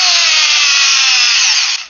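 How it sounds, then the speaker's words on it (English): A Hart brushless hammer drill with a 4-amp-hour battery and 22.8 foot-pounds of torque runs at full speed: a loud, steady, high-pitched motor whine held close for nearly two seconds before it cuts off sharply. "The Hart hammer drill."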